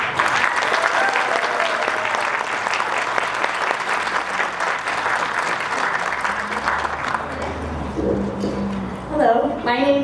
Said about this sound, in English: Join me giving a nice round of applause to the one and only Mrs. Brown.